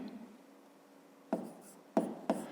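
Pen strokes writing out a fifth-grade math exercise on paper: a faint steady scratch, then three short, sharper marks spaced apart near the end, close and quiet.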